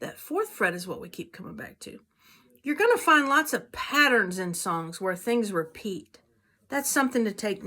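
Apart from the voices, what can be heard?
No everyday noises stand out.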